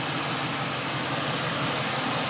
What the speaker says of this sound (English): Like I said, the motor runs really smooth.